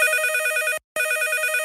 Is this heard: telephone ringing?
yes